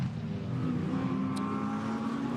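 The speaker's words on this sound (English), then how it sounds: "There is the Max Tresoldi driven BMW." A BMW GT4 race car on track at Zandvoort during qualifying, a steady engine drone with a held tone, heard from a distance and continuous throughout without talk.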